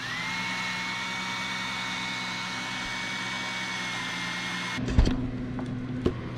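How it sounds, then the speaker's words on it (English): A power drill whines at a steady pitch for several seconds boring a hole in PVC, then stops with a couple of clunks and handling knocks. "Make sure to drill a hole for your wires to go through."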